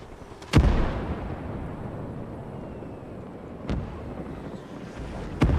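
In the game Call to Arms, mortar artillery fires three times in a battle scene. Each blast is a sharp, heavy boom that rolls into a long rumbling tail, with loud windy background noise between the shots.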